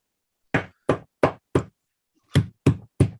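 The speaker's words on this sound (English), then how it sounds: "What is that knocking?" Sharp knocking on a door as a sound effect during a Macbeth reading: four evenly spaced raps, a short pause, then three more, loud and close with silence between.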